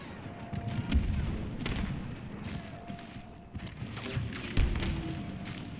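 Distant, muffled gunfire and booming blasts in a video game, scattered thuds over a low rumbling backdrop, fairly faint.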